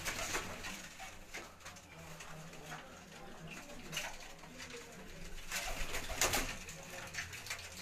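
Racing pigeons coo on a Gujranwala rooftop amid a noisy outdoor background, with soft wing flutters and faint voices mixed in.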